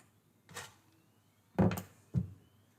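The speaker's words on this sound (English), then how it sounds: "Now that the door has been closed," A hospital door fitted with a patient-wandering alarm system is opened and closed: three distinct thunks and knocks, one softer, then two louder close together, in an otherwise quiet room.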